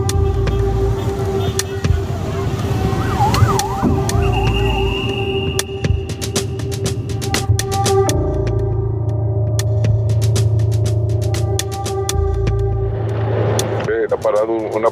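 A police siren wails and sweeps up and down amid traffic noise in Cuba, with several patrol cars arriving and people talking nearby over the siren.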